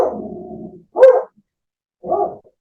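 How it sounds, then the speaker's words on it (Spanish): A dog barks close to an open microphone during an online book presentation: one drawn-out bark, then two sharp, loud woofs with quiet gaps between them, no talk over them. "se escucha el perro"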